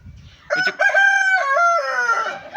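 A rooster crows once, loud and close, in a coop holding black roosters and a black hen. The crow is a single drawn-out call lasting a couple of seconds.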